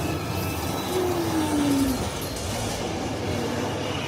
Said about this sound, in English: the tram is moving